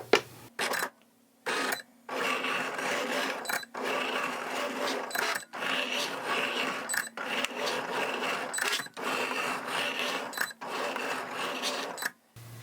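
A Cricut cutting machine fitted with a deep point blade cuts a sheet of cork on a loaded mat, giving steady mechanical whirring in repeated bursts separated by short pauses, close and fairly loud with no talking.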